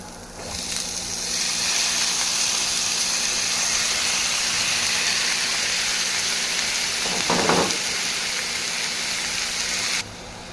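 Tomatoes, garlic and black pepper sizzling and being stirred in a pot for tomato soup, a steady loud frying hiss with a brief scraping stir near the end, no voices.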